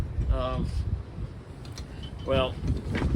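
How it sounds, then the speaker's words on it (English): Gusty wind blowing outdoors during a gathering, a steady low rumble of air buffeting the microphone, with a person speaking over it at moments. "it's windy"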